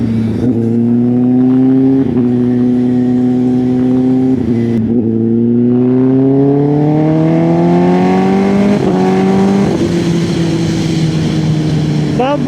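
A Stage 2 tuned Kawasaki ZX10R sportbike engine revs loud and close, rising through long throttle sweeps with sharp crackling pops and bangs between pulls.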